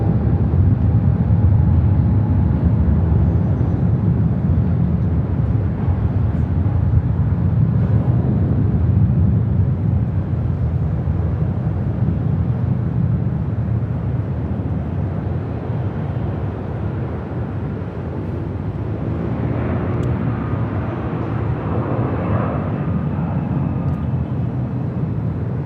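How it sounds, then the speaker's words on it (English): A Philippine Airlines Boeing 777-300ER takes off at LAX, a heavy, steady low jet roar holding at constant loudness throughout, with a faint rising tonal whine near the end. "This is Philippine Airlines Flight 113 taking off to Manila on a 777-300ER."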